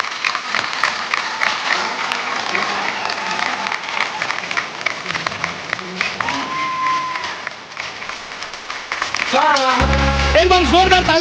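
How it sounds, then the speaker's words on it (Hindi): Studio audience on the Kapil Sharma Show comedy set applauds and cheers loudly and steadily to welcome Bollywood star Akshay Kumar and actress Sonakshi Sinha, with music swelling in near the end. "जोरदार तालियों के बीच please welcome supremely talented, supremely dashing Bollywood superstar Akshay Kumar"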